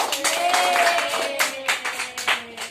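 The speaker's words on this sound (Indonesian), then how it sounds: "Tepuk tangan." Clapping in a classroom lesson on the properties of sound, several hands beating in short, uneven bursts while a voice talks and sustained tones hum in the background.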